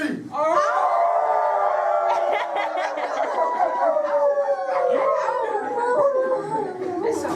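A group of middle school children imitating a wolf howl together, a loud sustained chorus of rising and falling voices that breaks into scattered yelps and laughter near the end.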